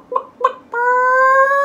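A chicken gives two short clucks and then a sustained, drawn-out squawking call, close and clear, with no voices over it.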